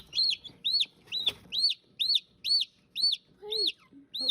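Newly hatched chicks in a classroom incubator, one pecking its way out of the shell, giving a steady series of loud, high peeping calls about twice a second, close up, with a faint tap and low rustle underneath.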